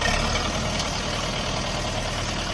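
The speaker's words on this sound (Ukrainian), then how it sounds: "Відвертаємо тракторець Оріон 504." An Orion 504 compact tractor with a cab, four-cylinder engine and four-wheel drive, idles nearby in a steady, continuous low rumble with no talk over it.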